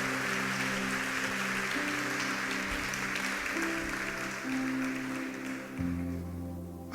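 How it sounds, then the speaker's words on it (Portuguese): A church congregation applauds steadily at a worship service, a dense sustained wash of clapping with music holding underneath throughout. "Se for para Jesus, pode aplaudir mais forte."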